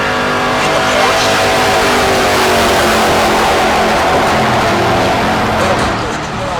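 Race cars at Heartland Park Topeka, an AMC-powered Jeep and a Porsche, roar steadily at high revs, loud and close, a continuous dense engine howl that eases slightly at the end; a commentator talks over it.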